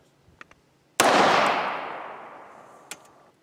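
A single sharp pistol shot from a 9mm loaded with a truncated cone cast bullet, fired outdoors, cracks loudly and then rolls into a long decaying echo, with a few faint clicks before and after.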